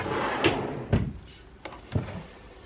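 A household drawer being opened and closed during a decluttering tour of cupboards, giving four short separate knocks and slides spaced about half a second apart, close and fairly quiet.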